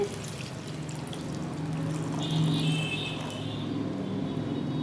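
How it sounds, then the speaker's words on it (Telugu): Water poured from a small pot into gram flour for idli batter, a soft steady pouring and trickling sound under a low background hum, swelling slightly midway. "ఇలా 3/4 వంతు వాటర్ పోసుకొని 1/4 వంతు వాటర్ పక్కన పెట్టేసుకున్నాను."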